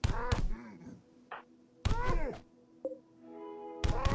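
Punch thuds in RimWorld, Eldritch modded play: a few short, dull impacts spaced across a few seconds, moderately loud, with game tones ringing between them.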